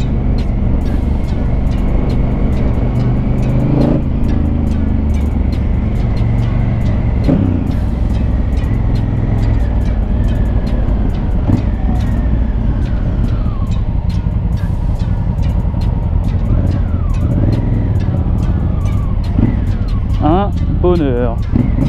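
A 2019 Honda Africa Twin motorcycle engine pulls uphill on a road ride. It gives a continuous close engine drone whose pitch rises and falls with throttle changes, and a rider's voice is heard over it.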